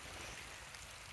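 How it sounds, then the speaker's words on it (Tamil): Rain falling at a hilltop Perumal temple near Arthanaripalayam, Pollachi: a dense, even hiss of downpour close by, brief and steady with no voices. "கோயிலுக்கு மேலே வந்தவுடனே மழை வந்துருச்சு."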